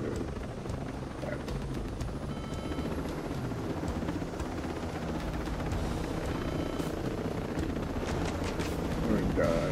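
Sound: helicopter in Ghost Recon Breakpoint video game

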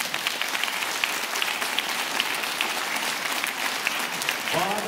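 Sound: applause

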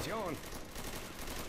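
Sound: gunfire in the video game Left 4 Dead 2

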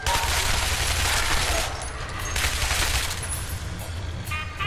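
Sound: gunfire in video game Shadow Warrior

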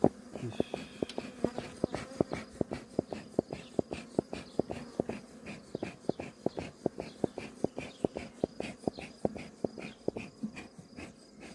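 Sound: bees around a beehive during hive inspection

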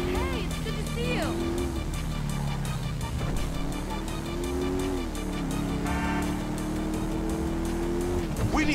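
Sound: motorcycle engine in GTA 5 video game

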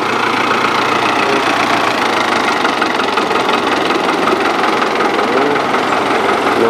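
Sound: Kubota M4000 tractor with Fiat 8400 engine idling

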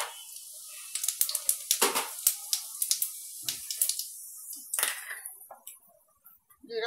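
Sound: cumin seeds added to hot oil, sizzling

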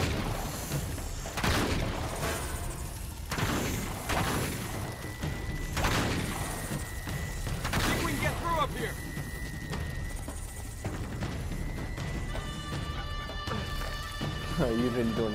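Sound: gunfire in the video game Uncharted 3

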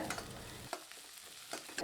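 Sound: sautéing onions and chilies in oil

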